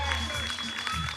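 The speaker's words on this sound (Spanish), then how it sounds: "recibimos con un fuerte aplauso a César Lara Pérez con la camiseta número 6" Audience applause greets a player walking onto the court at a school 3x3 basketball event. It is brief and mixed with an announcer's amplified voice and background hum.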